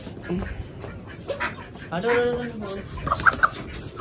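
Chickens clucking and squawking nearby amid background commotion as people try to catch them, talking over the birds throughout.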